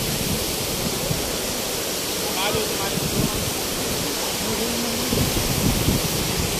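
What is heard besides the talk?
waterfall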